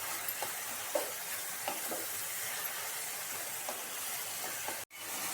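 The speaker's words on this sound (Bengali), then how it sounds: "এবার আমি দিয়ে দিচ্ছি এর মধ্যে টমেটো কাটাগুলো, দিয়ে একটু ভালো করে নেড়ে দিচ্ছি।" Chopped tomatoes are stirred in a hot pan for a fish-head and ash gourd curry, giving a steady sizzling hiss with soft, regular stirring knocks and a brief break in the sound near the end.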